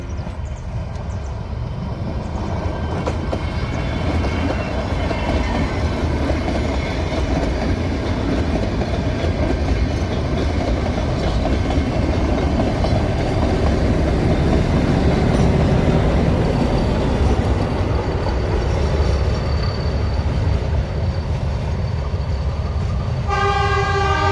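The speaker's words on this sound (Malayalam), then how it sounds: "അപ്പോൾ നമ്മുടെ ടോയ് ട്രെയിൻ പയ്യെ നമ്മുടെ അടുത്തേക്ക് വന്നുകൊണ്ടിരിക്കുകയാണ്." The Ooty toy train approaches slowly, rumbling steadily and loudly throughout with a continuous rolling roar, and a brief horn-like toot sounds near the end.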